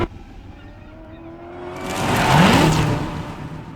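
A car engine swells steadily louder, rising to a close roaring pass before easing off slightly.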